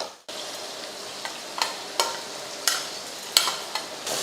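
Tomatoes and brinjal sauté in a pan for a kara kuzhambu, sizzling steadily with several distinct scrapes and clinks of a ladle stirring at irregular intervals; no voices.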